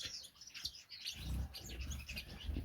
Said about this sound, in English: That red-headed, white-breasted Gouldian Finch is the dad of the one next to it.